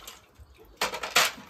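River clams are swished and rinsed a second time in a pan of water, giving two short splashy sloshes after a quiet stretch, close up.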